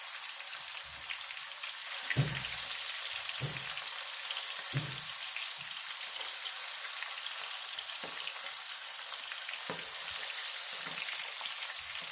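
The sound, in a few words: frying in hot oil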